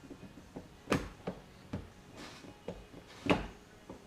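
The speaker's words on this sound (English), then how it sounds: "I'm going to pull out the door handle a little bit," The rear door handle of a 2023 Audi Q7 is worked loose with a series of sharp plastic clicks and clunks, two louder snaps standing out among lighter taps, close and with no talking.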